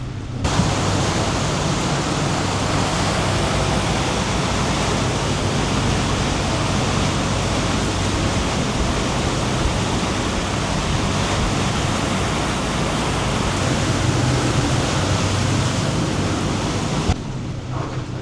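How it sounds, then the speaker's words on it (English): Strong wind roaring steadily around a Fountaine Pajot catamaran under way offshore between Ocean City, Maryland and Norfolk, Virginia, during a storm, a dense continuous rush with no pauses and no voices. "it's pretty windy out there"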